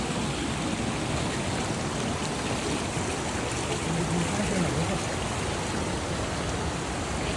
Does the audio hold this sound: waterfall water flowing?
yes